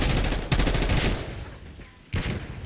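Rapid automatic gunfire in Call of Duty: Black Ops 6, two loud bursts of close fire separated by a brief lull, with no talk over them.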